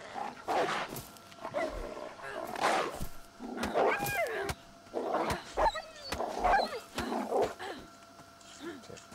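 A dog in a video game yips, barks and whimpers in short, uneven bursts at close range, with pitch swoops and sharp clatters scattered throughout.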